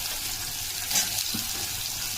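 Soybean chunks hitting hot oil with a little sugar in a pan, a steady hiss of frying that swells briefly, fairly close, with no talk.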